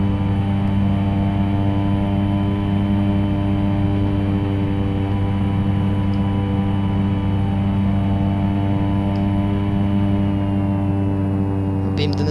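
A propeller aircraft engine runs steadily with a loud, continuous droning hum and strong low harmonics, holding the same pitch throughout, heard from close range.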